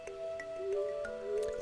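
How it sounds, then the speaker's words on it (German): Watering crops with a watering can in Stardew Valley brings soft splashy drips over light tonal game music, brief and quiet. "Jetzt erstmal hier alles wieder gießen."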